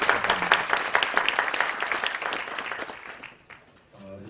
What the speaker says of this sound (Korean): 다시 한번 뜨거운 박수 부탁드리겠습니다.